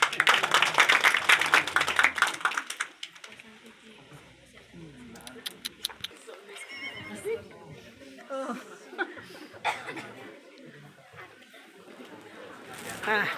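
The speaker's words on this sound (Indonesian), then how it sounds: "Tepuk tangan buat Ibu Pendeta Yani." An audience at an inauguration ceremony gives a short burst of dense clapping for a woman pastor, fading after about three seconds into scattered talk and murmuring among the crowd.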